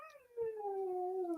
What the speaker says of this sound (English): Can I hear my dog?